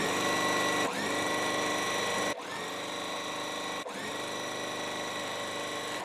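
A sewing machine stitches a quilt block in three runs of fast, steady whirring, each broken by a short pause, loud and close with a bright mechanical hum.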